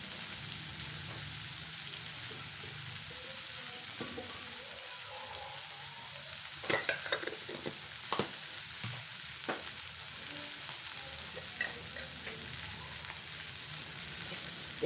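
Cluster beans fry in a pan with a soft steady sizzle, broken by a few scraping tosses and stirs midway, fairly quiet throughout.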